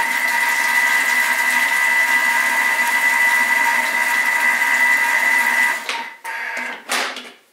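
An electric mixer whirring steadily as egg yolks are blended for lemon mayonnaise, a loud constant motor hum for several seconds that cuts off, then a couple of short bursts before stopping.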